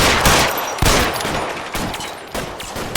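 Video game gunfire from L.A. Noire rings out in loud, sharp bursts, several shots crackling close together in a steady rattling exchange across the whole stretch.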